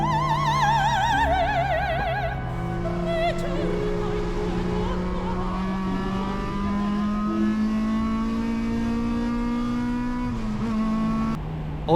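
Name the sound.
Toyota MR2 racing on a wet track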